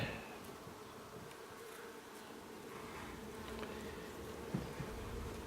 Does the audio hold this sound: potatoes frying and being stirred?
no